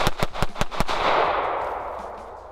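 Rapid pistol shots fired in a concealed-carry practice drill: a fast string of sharp, loud cracks packed into about a second, followed by a lingering roar of echo that slowly fades.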